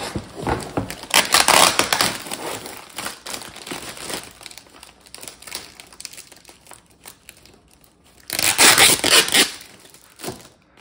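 Tape crinkling and peeling off parts of an Align TB70 helicopter kit during unboxing, heard as loud bursts of crackling, rustling plastic near the start and again near the end, with quieter handling in between.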